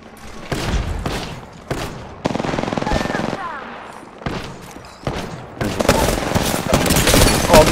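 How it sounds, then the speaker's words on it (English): Bursts of gunfire from a Hemlok or Prowler in an Apex Legends match crack out in short, loud volleys separated by brief gaps, building into heavier continuous fire toward the end. "Oh, this is burst fire."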